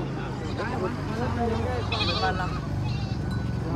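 Goats bleat at a busy goat market, their calls mixing with crowd chatter and steady talk from nearby people throughout.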